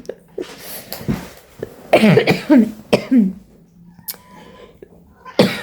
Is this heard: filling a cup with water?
no